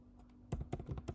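Quick, light keystrokes on a computer keyboard while an email address is entered, a short close run of soft clicks after a brief pause.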